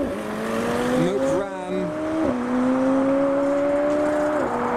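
McLaren 720S accelerating away from a car show, a loud close engine rising in pitch through quick gear changes as it pulls away, with crowd noise and voices in the background.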